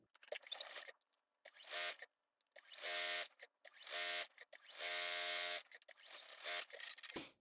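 A sewing machine stitches all the way around a flannel infinity scarf tube in several short stop-start bursts of close, whirring motor noise separated by quiet pauses.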